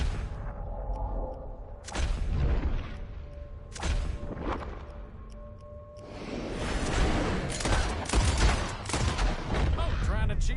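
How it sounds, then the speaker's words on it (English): Gunfire in a shooting contest in Red Dead Redemption 2, with several loud sharp shots and booming blasts, spaced early on, then a dense rattling volley toward the end, with game voices in between. "As soon as you see him, start shooting."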